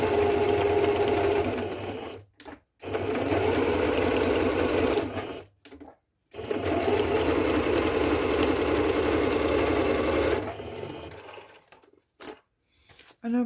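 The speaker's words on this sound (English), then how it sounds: "So now what I will do, I will sew down little stitched line." A sewing machine stitching a line along sturdy thick paper for journal pages, its fast mechanical whirr running loud and close in long bursts separated by short stops.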